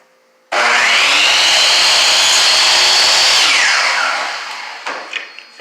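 A Milwaukee metal-cutting saw blade bites in with a loud, steady, close-up whine and grind for about three and a half seconds. It then tapers off as the cut finishes, ending with a few small clatters.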